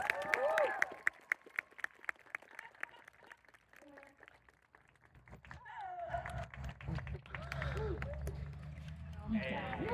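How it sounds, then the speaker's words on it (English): Scattered audience clapping at an outdoor falconry show, a spread of separate claps that thins out before voices and louder crowd noise take over toward the end. "Everyone give him a great big round of applause."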